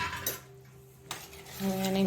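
A spoon stirring a paneer curry with water in a pot, with a few sharp metallic clinks and scrapes against the side over a quiet bubbling background.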